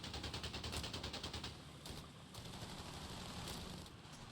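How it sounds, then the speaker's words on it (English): MG42 machine gun fire in the video game Company of Heroes 3, heard as a faint, rapid rattling burst and then quieter scattered shots in the background. "MG42 suppresses the first Rifleman"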